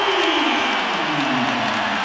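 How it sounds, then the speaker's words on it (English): A basketball arena crowd cheers and applauds in a steady, loud roar, with a descending whistle-like tone gliding through it. "Finally signs of life from this crowd."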